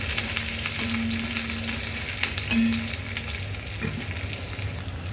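Garlic, ginger, chili and onion frying in oil for palak paneer, a close, continuous sizzle with scattered crackles and the scrape of stirring, plus a brief tonal hum now and then, and no talk.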